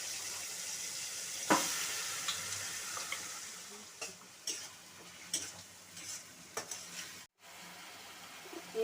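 Onion paste, green chilli and garam masala frying in hot tempering oil, a soft continuous sizzle broken by scattered spatula scrapes and clinks, with one sharp knock near the start and a brief dropout late on.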